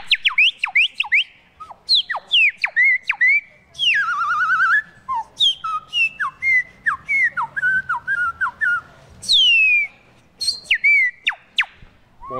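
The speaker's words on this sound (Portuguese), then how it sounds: "o apito é utilizado para várias coisas, para caça, o ritual espiritual, para comunicação." Pataxó whistles blown in a lively series of sharp, sliding, birdlike calls, some rising and some falling, with warbling trills and short gaps, loud and close, with no talking.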